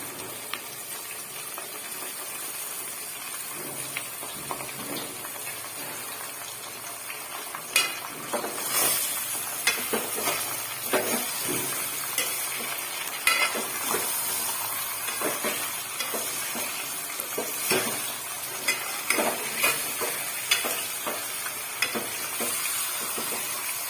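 Chicken pieces for chicken masala sizzle and fry in a pan, a steady close hiss with scattered scraping and clatter as they are stirred, no voices.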